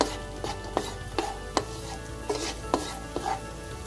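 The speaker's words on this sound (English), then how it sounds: "Just going to fry this for a few seconds more and take this off the wok" Cashews frying in oil in a wok, a soft steady sizzle punctuated by a regular series of sharp scraping, tapping stirs roughly every half second.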